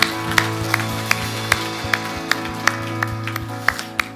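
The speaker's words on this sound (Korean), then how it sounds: "하나님께 영광의 박수 올려드립시다." A church congregation claps in a steady rhythm along with sustained worship music, sharp regular claps ringing out over organ-like tones throughout.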